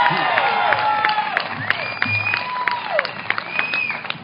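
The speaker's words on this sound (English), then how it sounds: "Big round of applause," Audience applause greets John Sullivan, director of the film America, at a hometown gathering in Murrieta: a steady wash of many hands clapping close by, with sharp individual claps, whistles and rising cheers running through it for the whole stretch.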